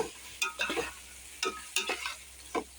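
Tomato and mint masala frying in oil for mutton biryani is stirred with a spoon, several distinct scraping strokes in uneven clusters over a faint low sizzle, close and clear.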